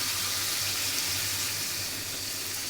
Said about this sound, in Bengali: কিন্তু মশলার সাথে কষানো শেষ এখানে করে দিই যে পানিটা দিয়ে দিই